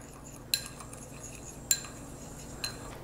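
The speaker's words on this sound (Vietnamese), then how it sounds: "Trộn cái bột rau câu với" Agar jelly powder being stirred with sugar, likely with a metal utensil in a dish, producing three sharp, bright clinks spaced about a second apart over a low background hum.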